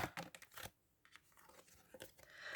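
Quiet papery crinkles and a short tearing slide as a tarot card is pulled from the deck, a few close brushing strokes with a soft pause in the middle and no talking.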